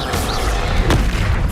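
Confringo fire spell explosion in Hogwarts Legacy gameplay, a loud dense burst with a deep low-end boom and a sharp crackling impact near the middle, over constant game rumble.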